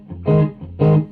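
Two thick, gritty electric guitar chords through an OCD overdrive pedal with the guitar volume rolled off swell and fade in quick succession, warm and moderately driven rather than harsh.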